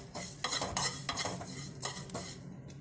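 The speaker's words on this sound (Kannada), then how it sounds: "ಲೋ ಫ್ಲೇಮಲ್ಲಿ ಇಟ್ಕೊಂಡು ಫ್ರೈ ಮಾಡ್ಕೊಳ್ಳಿ" Cumin and fenugreek seeds fried and stirred in a pan over low flame, a spice roast for Mangalore-style chicken ghee roast: close scraping and clinking of a spoon against metal in irregular strokes, with a faint sizzle and no talking.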